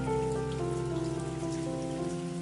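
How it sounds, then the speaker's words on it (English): Water from a bowl is poured into a cooking pot to start a caramel colour for braised pork belly, giving a steady, close splashing rush with faint tonal music underneath and no talk. "Add a bowl of water to the pot."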